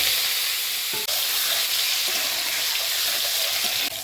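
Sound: boiled eggs frying in oil in a wok

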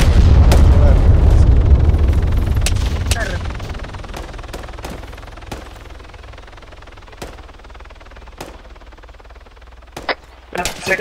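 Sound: gunfire in a video game

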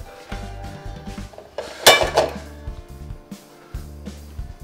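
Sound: frying pan being taken and put on the stove

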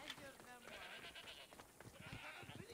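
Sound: goats bleating in video game Assassin's Creed Odyssey

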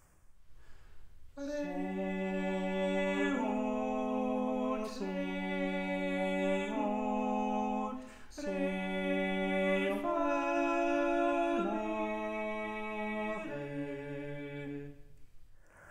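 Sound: two voices singing thirds and fifths

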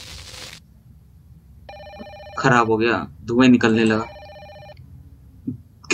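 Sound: telephone ringing

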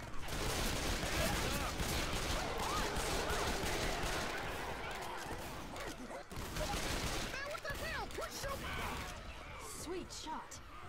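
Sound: gunfire in video game Left 4 Dead 2

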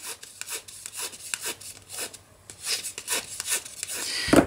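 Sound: paper bent and rubbed over a bone folder

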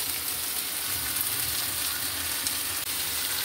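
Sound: chicken pieces frying on a tawa griddle

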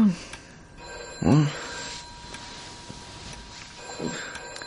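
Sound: telephone ringing at night

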